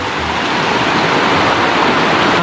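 A clear river stream flows steadily, a dense, continuous rushing wash of water heard close and loud throughout, with no voices over it.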